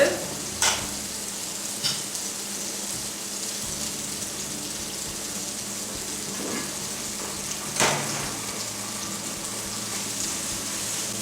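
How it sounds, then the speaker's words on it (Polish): Onion frying with tomato paste and mustard makes a steady close sizzle, with occasional louder scrapes and clatters of stirring across the stretch and no voices. "Po podsmażeniu cebuli z koncentratem i z musztardą"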